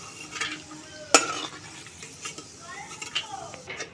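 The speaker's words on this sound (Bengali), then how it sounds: "বাদামগুলো আমি তেল থেকে তুলে নিচ্ছি" Hot oil sizzles softly while a metal spoon stirs and scrapes, with one sharp clink as fried peanuts are scooped out of the pan.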